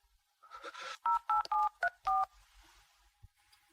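A telephone keypad dialing a number: five crisp touch-tone beeps in quick succession after a brief rustle, then a quiet pause, heard alone at moderate level.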